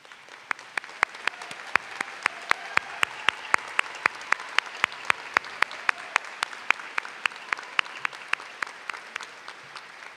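A high school graduation audience applauds cum laude students, a sustained mix of many hands clapping at moderate distance, with a few sharp individual claps standing out near the front.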